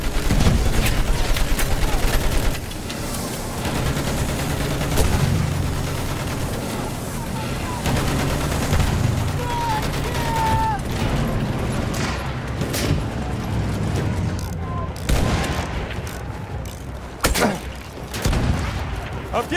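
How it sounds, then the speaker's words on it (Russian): Dense machine gun fire rattles continuously through a Battlefield 1 battle, mixed with explosions and booming artillery, loud and chaotic, while voices shout over the din. "Там у них пулемет!"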